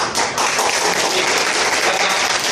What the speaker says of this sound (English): let's give Tiong Hee a round of applause